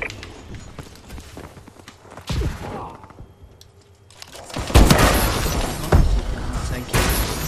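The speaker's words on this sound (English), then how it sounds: "Friendly missile strikes inbound." Missile strikes from Call of Duty: Advanced Warfare burst in a cluster of loud booms and crackling blasts, rising sharply partway through over a busy bed of game gunfire and noise.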